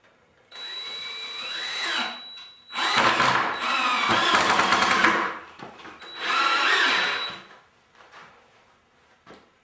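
A power drill drives deck screws into a wooden printer stand in three loud, close bursts of high whining motor and grinding, each lasting one to two seconds and separated by short pauses, with a few faint clicks at the end and no talk.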